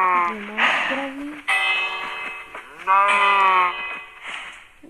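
Cows in the Minecraft video game give several drawn-out moos in quick succession, loud and close, with short gaps between the calls.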